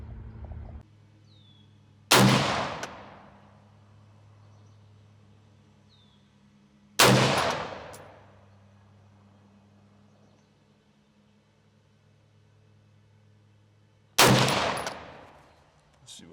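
Three loud, sharp rifle shots from a Kel Tec SU16 ring out at a target range, spaced several seconds apart, each with a lingering echo in the open air.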